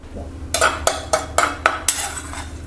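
A pestle thuds into a mortar in six steady, evenly spaced strikes, each a sharp knock with a brief ringing tail, close by.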